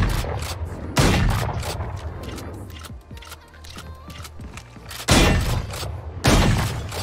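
Gunfire in the video game Valorant: loud sharp shots and short bursts at irregular intervals, separated by quieter stretches with faint mechanical clicks.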